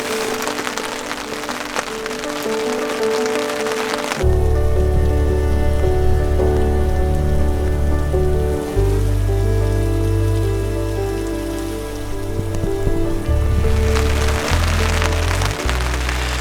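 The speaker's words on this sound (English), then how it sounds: "just listen to the sound of the rain" Rain drums steadily on a camper awning at a campsite, a dense patter heard close throughout, with a low hum that starts partway through and runs under the rainfall.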